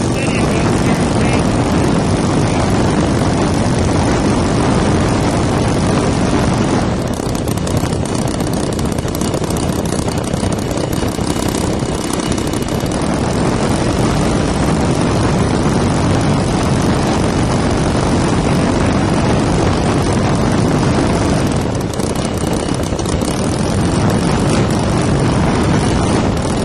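A motor driven by a basic stamp controller runs at a held, steady speed, producing a loud, unbroken broadband engine drone with no change in pitch throughout, very close.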